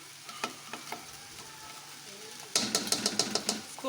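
Soaked rice fries in a pot with oil and is stirred gently. Soft scrapes come first, then a louder stretch of sizzling with steady, rhythmic stirring strokes near the end.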